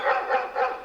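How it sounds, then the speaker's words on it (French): A dog barks three times in quick succession at moderate distance, each bark short and clear with no talk over it. "J'entends un chien."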